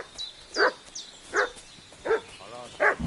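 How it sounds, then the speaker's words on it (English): A dog in a video game barks four times at an even pace, sharp and fairly close, with soft whines or yips between the barks against a quiet background. "What's that dog making such a fuss about?"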